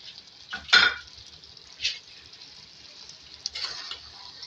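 A spoon stirs chicken vegetable curry with chopped coriander in a pan, producing a few scraping swishes and light metallic clinks over a faint, steady sizzle, close and without voices.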